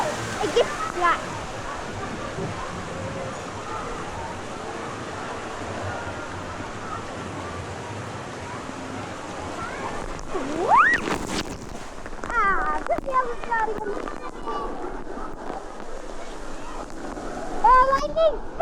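Water splashes and rushes on a water ride at Six Flags Hurricane Harbor, a steady wash of spray with louder surges near the end, under excited voices and shouting riders.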